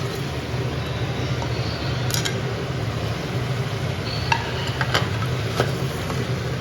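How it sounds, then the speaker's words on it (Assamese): Jackfruit curry being stirred in a pan gives a low, steady cooking hiss, with a few light scrapes and clinks of a spoon against the pan near the middle and end. "এইফালে মোৰ কঁঠাল লৰাই আছোঁ"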